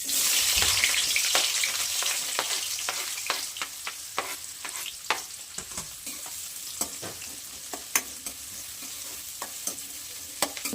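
Onion frying in hot oil with mustard seeds and cumin, a steady sizzle broken by frequent sharp crackles and pops from the spattering oil.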